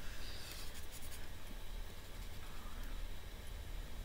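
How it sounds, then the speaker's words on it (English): A pen nib scribbles across paper to clean off red soft pastel, giving a steady, close scratching rasp that runs without a break for several seconds. "Scribble that off so that we get a clean nib."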